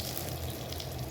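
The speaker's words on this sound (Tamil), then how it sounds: "இப்போ நான் கொஞ்சம் பட்டர் போட்டுறேன்" Butter sizzling in a pan for butter chicken masala, a faint, steady hiss and crackle with no talk over it.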